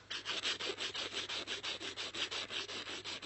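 An acrylic nail on a short, bitten nail being filed with quick, even back-and-forth strokes, a close, dry scratching rasp repeating steadily with no talking.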